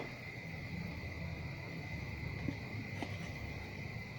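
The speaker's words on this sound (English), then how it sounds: "you might hear the crickets." A steady, high-pitched insect drone like crickets chirping continuously over a low background hum, faint and unchanging throughout.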